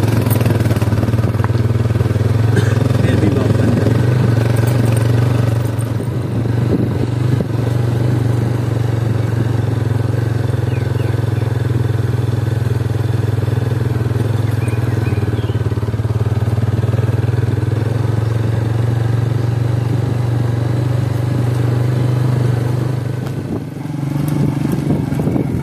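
A motorcycle engine runs steadily along a narrow dirt road through a mountain pass between earthen hills in a village in the Allai Valley, with a constant low drone and mild revving. It stays close and loud throughout.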